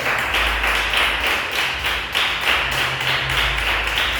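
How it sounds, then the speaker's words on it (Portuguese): A church congregation clapping for Jesus during a sermon, a steady rhythmic beat of hands in unison, moderately loud and repeating at an even pulse throughout. "Palmas para Jesus."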